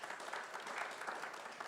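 Applause from an audience at a formal dialogue forum on Indonesian development, a dense, even burst of many hands clapping that carries steadily through the short stretch.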